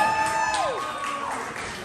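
Audience at an open mic comedy show applauding and whooping as a comedian takes the stage, a steady crowd roar with a descending whistle-like whoop early on, gradually easing off.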